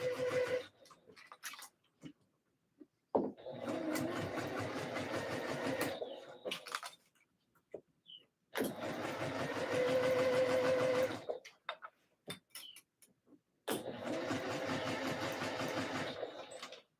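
A sewing machine on a long stitch length runs around a skort opening in three separate bursts of a few seconds each, with quiet pauses between them.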